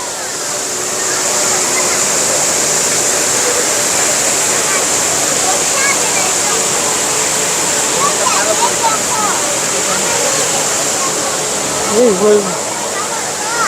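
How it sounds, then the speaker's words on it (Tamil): Indoor waterfall at Singapore airport pouring and spraying water, a steady loud rushing wash throughout, with faint voices and a brief human sound near the end. "அப்படியே சாரல் அடிக்குதுங்க இங்கே வேலை பார்த்தீங்கன்னா ஃபுல்லாக அப்படியே தண்ணி ஊற்றுது"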